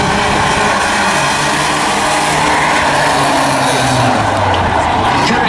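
Claimer-class race cars thunder around a racing circuit in a loud, dense roar of several engines, with pitches climbing and sliding as they close up into a turn.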